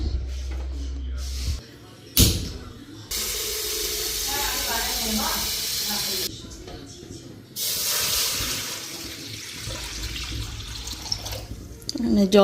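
Water gushes and hisses into a wok on the stove in long pours separated by brief pauses. Someone talks between the pours.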